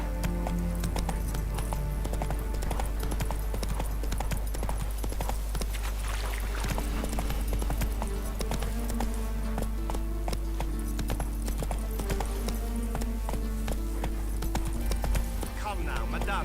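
Hooves of Roach, the horse in the Witcher 3 game, clip-clop in a steady gallop throughout, with occasional neighing, mixed under continuous music and in-game talk.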